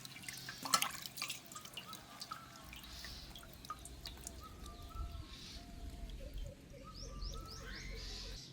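Water dripping off freshly washed spinach greens set aside to drain, a sparse run of small drips over steady outdoor ambience with birds calling faintly in the background.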